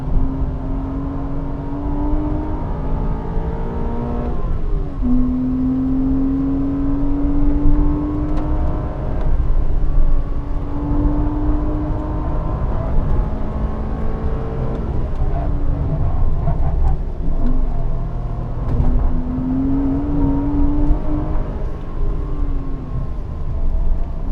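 A Porsche Cayman driven hard around the Blyton Park race track, its engine heard from inside, rising and falling in pitch through repeated gear changes and corners, loud and steady for the whole stretch without talk.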